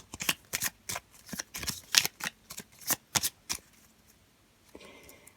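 Lenormand oracle cards are shuffled by hand in a run of crisp, close riffling flutters and slaps that fade into quiet near the end.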